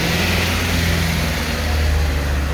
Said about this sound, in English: That noise is why we want EVs, right? Who needs a diesel engine?